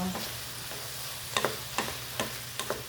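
Eggplant tossed with seasoning in a frying pan gets stirred over a steady low sizzle, with a few distinct scraping strokes of the spoon against the pan, close by and with no talk.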